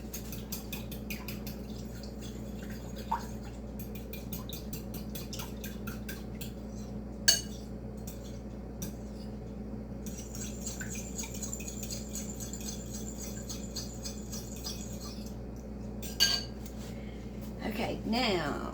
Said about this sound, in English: Let's mix this up some.